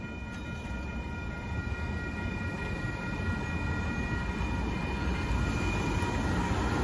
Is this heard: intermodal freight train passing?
yes